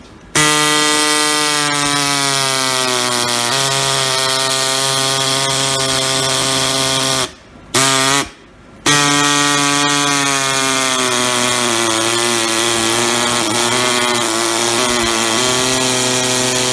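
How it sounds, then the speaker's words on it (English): Central Pneumatic high-speed air-powered metal saw cutting plastic, a loud continuous high whine that runs almost nonstop, briefly dropping out twice before resuming, close up with no talking. "I decided to bust out my central pneumatic high-speed metal saw. And this thing cuts through plastic like you wouldn't believe."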